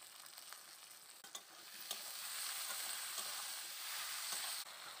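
Chopped tomato and salt tipped into a pan of spices frying in oil with dried red chilli powder and turmeric, a sharp hiss rising into steady, close sizzling with scattered stirring clicks.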